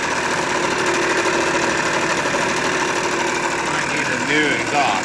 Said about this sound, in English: Got a little exhaust leak here.